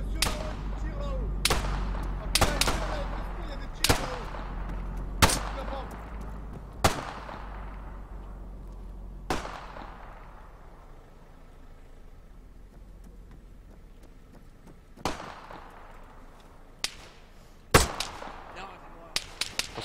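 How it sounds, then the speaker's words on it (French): Gunfire from shooters positioned above in a video game cracks out in about a dozen sharp, scattered shots, some loud and close, others fainter, over a low rumbling background. "Y'a des messieurs là-haut qui tirent là-haut."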